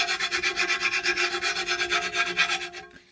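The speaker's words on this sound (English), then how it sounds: "So if you just take your file and rub it on the back side," A hand file rasps in quick, even back-and-forth strokes along the back side of a Snapper mower blade, about a dozen close, loud scrapes that stop abruptly.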